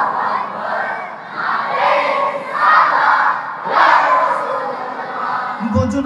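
A large crowd at a Bengali waz gathering in Chittagong roars the takbir chant "Allahu Akbar" in loud, swelling waves of massed voices. The chant comes in repeated surges, and a sharp thump sounds at the very end.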